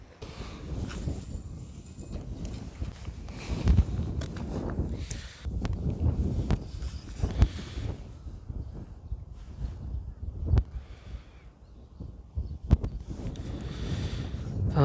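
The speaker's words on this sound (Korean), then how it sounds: "바람 많다 바람 많아" Strong sea wind buffeting the microphone while squid fishing from a boat off Namhae, a constant low rumble with gusty surges and occasional knocks.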